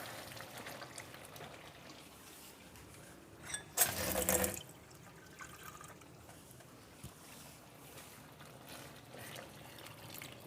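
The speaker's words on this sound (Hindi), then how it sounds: "ये मसाला हो गया, इसमें थोड़ा सा हम पानी डालेंगे।" Roughly half a cup of water poured into cooking masala for chicken tikka biryani, a short splashing pour in the middle amid quiet kitchen background.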